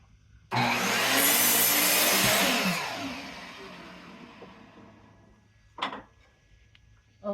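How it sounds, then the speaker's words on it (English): A power saw in a workshop spins up sharply and cuts for about two seconds, loud and close, then winds down into quiet broken by a brief knock. "Oh, she's gonna crank up the saw."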